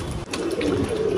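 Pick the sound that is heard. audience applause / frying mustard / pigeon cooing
pigeon cooing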